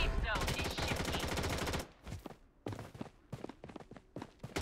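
Rapid automatic gunfire in the Blood Strike battle royale game: a loud sustained burst of machine-gun fire, then a short pause and several choppier, scattered bursts and single shots.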